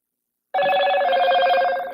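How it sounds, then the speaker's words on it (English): An Android phone alert notification rings out alone, a bright, sustained electronic tone that starts abruptly and holds for about a second and a half before fading. "I don't know how to turn off them alerts. I got this Android."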